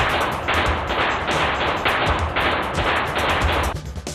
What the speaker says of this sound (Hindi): गोलियों की आवाज गूंजते ही पूरे अस्पताल में हड़कंप सा मच गया